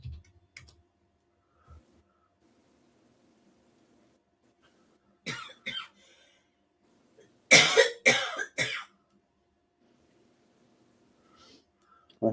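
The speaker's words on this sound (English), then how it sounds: "I can hear you coughing back." Several bursts of coughing sound close to the microphone, with a cluster of harsh coughs in the middle and quieter ones before and after, set against near silence and a little faint clicking.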